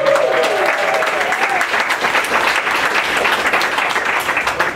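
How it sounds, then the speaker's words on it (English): An audience applauds at a panel talk, steady dense clapping throughout with a brief voice heard near the start. "Let's hear a round of applause for that."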